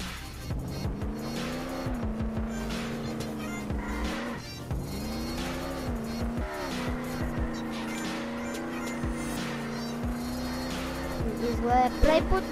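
A Lamborghini in the Roblox game Jailbreak drives with a steady engine drone that rises and falls in pitch as it accelerates, plus occasional tire squeals, while a voice speaks over it.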